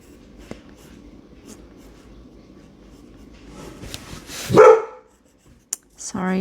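A dog gives a single loud bark nearby during a watercolour painting session, after a stretch of quiet scratching, with a couple of sharp knocks and a voice starting at the end.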